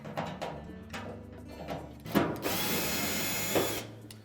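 A power screwdriver whirs in steady bursts while backing Phillips screws out of the top panel of an LG dryer, a longer continuous run in the middle, close and fairly quiet with no talk.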